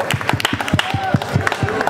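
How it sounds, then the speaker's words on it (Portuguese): A crowd at a street rap battle cheers and claps in quick rhythmic bursts for a contestant, while a voice talks loudly over the noise. "Barulho só pra quem achou que foi RDX."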